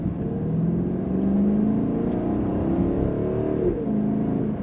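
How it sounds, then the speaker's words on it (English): A 2024 BMW X6 M60i engine idles and revs with a low, throaty drone, pitch rising and falling in waves, close up and continuous with no talking. "This engine's making so much noise."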